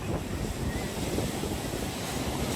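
Ocean waves at Bondi Beach in Sydney produce a continuous broadband wash of surf with wind buffeting the microphone, steady and loud throughout, with no clear voices.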